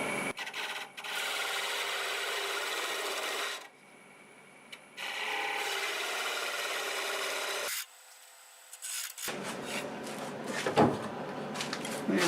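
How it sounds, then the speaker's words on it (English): A half-inch bowl gouge cuts into spinning wood on a lathe during inside-out turning, a loud steady scraping roar in several long passes separated by short quieter pauses. "I'm going to finish this off with a half-inch bowl gouge"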